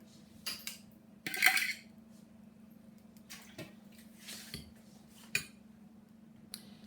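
Cooked macaroni is broken up and stirred into a cheese sauce for cauliflower mac and cheese, giving a few quiet, scattered clinks and scrapes of a utensil against the dish in a near-silent kitchen.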